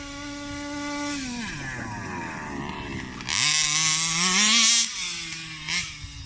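A Rovan Baja AS1 36cc gas-powered RC car engine revs and buzzes loudly at high pitch, its whine rising and falling as the throttle is worked, with a sharper burst near the middle.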